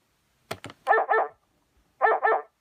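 A dog barks close by: a couple of sharp clicks, then two quick double barks separated by a short pause, with silence around them.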